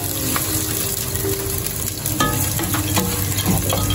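Onion and garlic frying in a pan, a steady close sizzle with some stirring and scraping throughout, and no talk.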